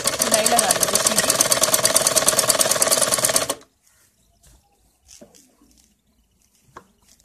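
A sewing machine runs a straight seam on a salwar, whirring loudly and steadily for about three and a half seconds before stopping abruptly, followed by near silence with a few faint handling clicks.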